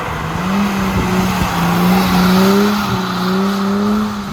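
A rear-wheel drive car with a welded differential skids, its tires squealing in loud, sustained wavering tones over a steady engine drone for several seconds.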